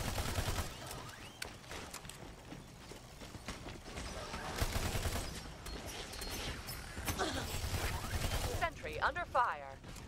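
Rapid gunfire bursts and weapon fire in the hero-based shooter Battleborn, dense and continuous over game effects, with voices talking throughout.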